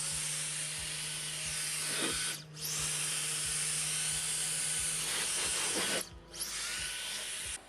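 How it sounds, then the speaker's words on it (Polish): A multi-purpose cordless blower runs with a steady, close, high-pitched rushing hiss while clearing leaves and debris off a car, briefly cutting out twice before resuming at full strength. "Przy pomocy dmuchawy możemy szybko zdmuchnąć wodę z powierzchni lusterka"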